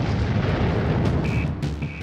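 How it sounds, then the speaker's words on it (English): A massive explosion at a chemical plant, with a fireball visible from miles away, heard as a sustained, rumbling roar and crackling blast that stays loud throughout, with faint high whistling tones near the end. "A massive explosion rocked the plant."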